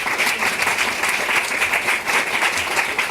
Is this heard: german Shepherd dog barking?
no